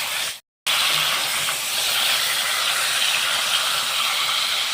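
Pointed gourd (potol) frying in oil in a pan gives a steady, loud broadband sizzle and hiss that runs throughout, broken only by a brief silent gap near the start.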